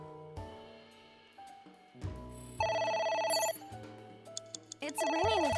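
A telephone rings inside a Zero Escape puzzle game, its electronic bell tones repeating in steady bursts over background game music, with a player's voice now and then.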